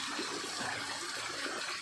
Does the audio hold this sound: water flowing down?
yes